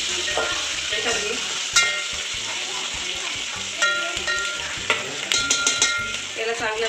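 Onion and tomato fry in a pan, a continuous sizzle broken by repeated clattering stirs and scrapes of a spoon against the metal, loud and close, with no speech.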